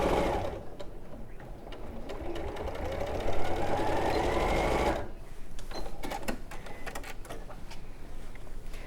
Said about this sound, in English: very, very slowly, if you're new to it, just keep sewing and make sure that your raw fabric edge is going along